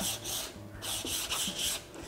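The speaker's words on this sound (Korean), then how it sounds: "사면을 모두 부드럽게 사포질 하겠습니다." Sandpaper rubbed along the grain of a wooden piece in a woodcraft workshop, a close, steady rasping in repeated back-and-forth strokes with brief pauses between passes.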